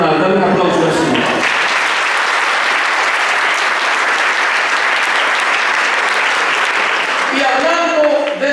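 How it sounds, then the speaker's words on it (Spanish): A church congregation at a mission bursts into loud, sustained applause, with a voice speaking briefly at the start and again at the end. "Dale un aplauso al Señor."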